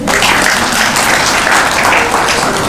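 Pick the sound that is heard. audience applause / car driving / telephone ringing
audience applause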